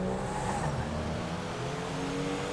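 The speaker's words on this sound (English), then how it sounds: "So we're driving the car right now" A continuous car engine in GTA 5 Online hums steadily at moderate volume, a smooth synthetic-sounding drone without pauses.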